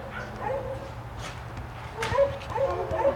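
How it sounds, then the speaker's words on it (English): A dog in an outdoor dog yard making low growls followed by whimpering and yips, several short vocal bursts of moderate loudness, close by. "Did he just growl?"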